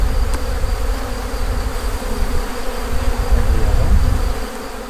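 Honeybees buzz at an opened hive, a dense continuous drone close by with a steady hum and slight swells in loudness.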